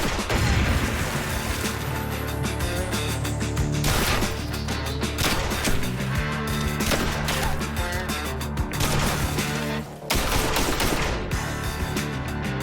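A Saiga 12 combat shotgun, patterned on the AK-47, fires in a rapid series of loud, booming shots that repeat steadily and continuously over a dense, reverberant background.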